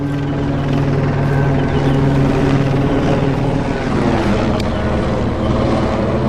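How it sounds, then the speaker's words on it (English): A loud helicopter drones steadily overhead, its rotor thrum and engine whine continuous and close for several seconds. "That's that helicopter."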